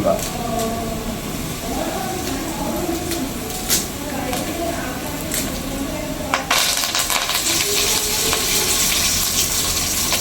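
Ginger and green chillies hiss steadily in hot oil, then curry leaves go in and the sizzle swells into a louder, brighter crackle. A voice talks over the frying throughout.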